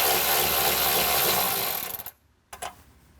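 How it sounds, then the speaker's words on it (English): Power tool or ratchet backing out an 8mm ground bolt on an amplifier for a 2021+ Ford Bronco: a loud continuous whirring rattle for about two seconds that cuts off, then two brief short bursts. "we're going to remove this ground bolt out here."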